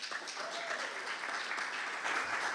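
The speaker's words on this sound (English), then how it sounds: "I ask you to give him a great round of applause to Reverend Chris." A church congregation at a Sunday celebration applauds in a steady, dense round of clapping from many hands, sustained throughout.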